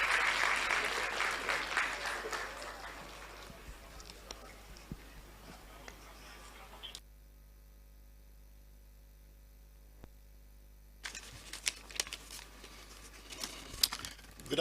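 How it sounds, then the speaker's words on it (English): Audience applause at the launch of a law alumni association and public lecture, a loud burst of clapping at the start that fades out, then a near-silent gap with mains hum, followed by scattered claps and room noise. "a round of applause"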